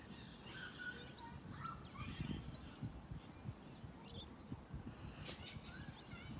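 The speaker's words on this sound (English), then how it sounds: "There's a lot of birds like seagulls, so bear with me if it gets a bit squawky and noisy." Seagulls squawk by the water, their calls scattered and fairly faint against a steady outdoor rumble of wind and surf, with no voices.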